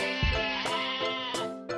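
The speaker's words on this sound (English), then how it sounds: "3 sheep" Sheep bleating several times in quick succession, close and clear, with wavering, harmonic-rich calls of varying length and no talk.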